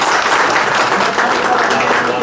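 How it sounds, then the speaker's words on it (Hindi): A meeting crowd gives a speaker a loud, dense round of continuous clapping that fills the room close up, with voices mixed in. "तो सर के लिए जोरदार तालियां होनी चाहिए।"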